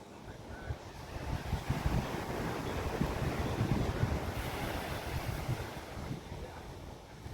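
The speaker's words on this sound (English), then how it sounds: "Marant Bay beach is pretty." Steady surf and wind at Marant Bay beach in Jamaica, a continuous wash of waves with gusty microphone rumble throughout and no voices.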